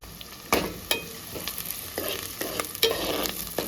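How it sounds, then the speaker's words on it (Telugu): Sliced onions and curry leaves frying for a chicken curry, a lively sizzle broken by repeated sharp scrapes and knocks of a spatula against the pan, close and unaccompanied by speech. "ఉల్లిగడ్డ మంచిగా ఫ్రై చేసుకోవాలి"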